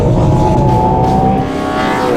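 A Ferrari Purosangue engine revving hard toward its 8,250 rpm rev limiter: a loud, close, sustained howl with a steady pitch that dips briefly and then climbs again, with no talking.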